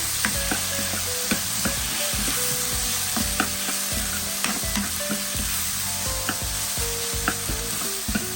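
Chicken sinampalukan sautéed with fish sauce sizzles steadily in a pan while a spoon stirs it, giving repeated scraping and clinking strokes over the constant frying hiss, with no talking.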